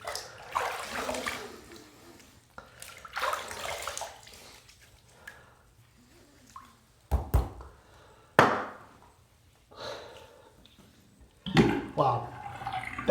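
Splashes of water from rinsing a face or razor after a shave with a Gillette Skinguard, in short separate bursts with quiet gaps between them, close by, with a voice speaking at times.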